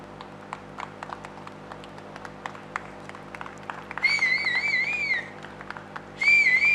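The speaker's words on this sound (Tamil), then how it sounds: "பொதுமக்கள் கைத்தட்டி உற்சாகப்படுத்துமாறு கேட்டுக்கொள்கிறோம்." Spectators at a sports club event clap in a scattered, sparse way, with separate hand claps over a steady hum, cut by two long shrill whistle blasts partway through and near the end.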